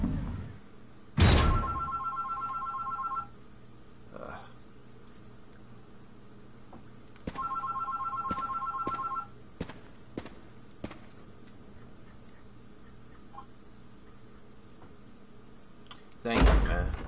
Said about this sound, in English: My house phone, which I don't answer.